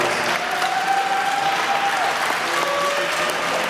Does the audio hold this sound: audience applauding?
yes